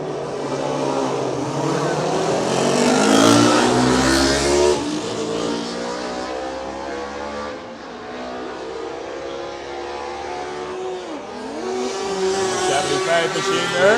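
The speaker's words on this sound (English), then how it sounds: "Machines leaving the grid for the warm-up lap." Road racing motorcycles at the Cookstown 100 road races leave the grid for the warm-up lap, a loud, continuous roar of several engines revving and rising in pitch under commentary.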